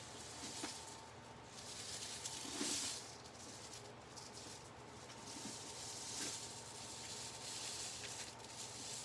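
Continuous soft rushing patter like light rain from a homemade rain stick, a gentle sandy hiss with occasional brief swells, close and steady.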